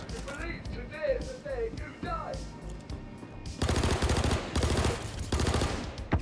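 SMG fire in Star Citizen during a bunker fight, dense rapid bursts that grow louder in the second half, with players talking over the shooting.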